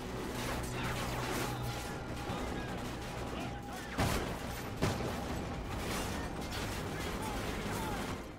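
Enemy gunfire in the Call of Duty: Ghosts campaign, dense rattling bursts and a couple of sharp louder cracks over a busy battle din, close and sustained, with someone talking in places.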